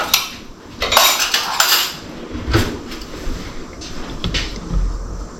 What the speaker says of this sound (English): I'm gonna try and spoon this out a little bit.